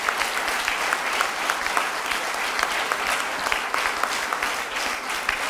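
Sustained audience applause after a French-language lecture, loud and dense with many hands clapping in a continuous wash, no speech over it.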